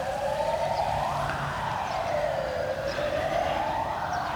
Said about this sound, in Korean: 지금 사이렌이 크게 울리고 있는데